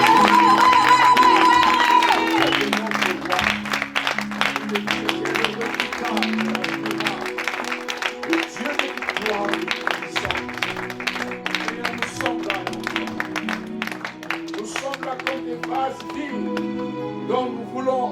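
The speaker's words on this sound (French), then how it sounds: "nous voulons te donner une offrande d'acclamation." A church congregation claps and cheers as an offering of praise during a worship service, loud dense applause with shouts sustained throughout, mixed with music and voices.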